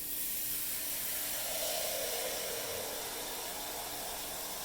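Water added to a hot tray in an oven beneath a baking cheesecake gives off a steady, even hiss of steam that swells slightly midway, continuous and unbroken with no voices.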